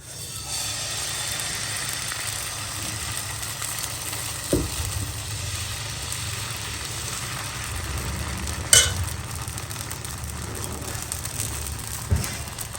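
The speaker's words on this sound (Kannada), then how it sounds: "ಈಗ ದೋಸೆ ಹಾಕೋಣ" Dosa batter sizzling steadily on an oiled hot pan, a continuous close frying hiss with a few faint clinks from utensils.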